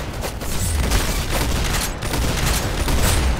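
Dense, continuous volleys of gunfire in the Roblox shooter Arsenal, loud and unbroken rattling with booming low end throughout.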